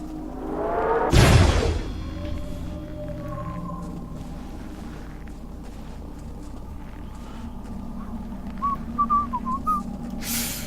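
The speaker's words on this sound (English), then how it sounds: "I shouldn't whistle because I appreciate that probably doesn't sound particularly good in yieldy recording." A person whistling a few short, faint notes near the end, heard after a loud burst and over a low background drone, with no talk.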